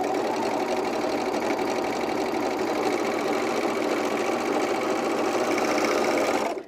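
A serger runs steadily stitching elastic onto underwear with a short stitch length, a close, continuous whirring buzz that holds for several seconds and then stops abruptly.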